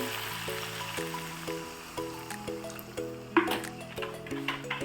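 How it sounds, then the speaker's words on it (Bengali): Water pours into a pot of chicken kosha curry as a steady, close liquid stream with some soft splashing. Tonal background music plays underneath. "জলটা দিয়ে ভালো করে নাড়াচাড়া করে জলটা ফুটতে দেব"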